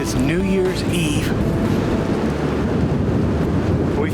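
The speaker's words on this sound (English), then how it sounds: "It is windy." Strong wind buffeting a hunter's tree stand in northwest Oklahoma on a winter day, a loud steady roar of gusts and microphone rumble throughout, with a voice talking briefly at the start.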